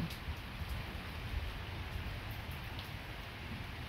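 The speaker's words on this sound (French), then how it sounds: "Mais c'est une pluie faible à modérée." Light to moderate rain falls steadily at night during a thunderstorm, a faint even patter on surfaces with no thunder standing out and no voices.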